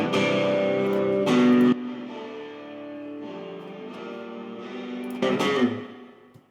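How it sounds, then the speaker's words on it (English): Home multitrack mix with the instruments sent to a room reverb with a little pre-delay, a sustained blended chordal passage with a couple of brighter accented swells and a reverb tail fading at the end, with no talking. "It's a room space with a little bit of pre-delay."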